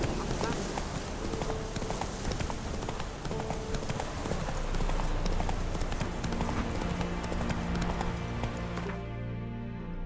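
Hooves of Roach, the horse in The Witcher 3, clip-clop in a steady galloping rhythm under dense game music and ambience, continuous and fairly loud throughout.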